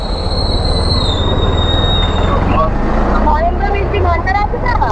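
Train at Garia railway station, wheels squealing loudly on the rails with high screeching tones that fade, over a heavy rolling rumble and clatter of wagons passing close by.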